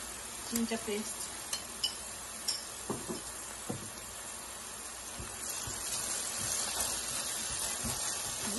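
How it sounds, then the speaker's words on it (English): Garlic and ginger paste cooking in a pan for chicken masala, a faint steady sizzle with several light clinks and scrapes of a utensil early on, close and quiet. "I'm going to let this now cook to golden brown."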